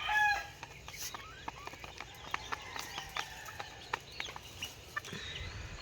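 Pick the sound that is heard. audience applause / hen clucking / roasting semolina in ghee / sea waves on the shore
hen clucking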